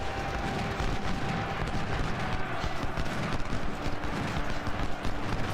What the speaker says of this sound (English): Nelson will fire at the skirmishers